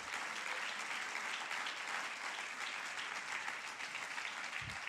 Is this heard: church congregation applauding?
yes